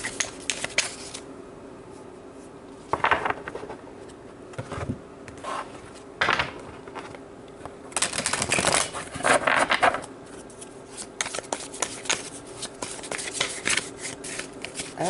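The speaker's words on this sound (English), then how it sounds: "Just want to get these cards nice and shuffled." Tarot cards are shuffled close by in irregular bursts of riffling and flicking, with quieter pauses between the flurries and no talking.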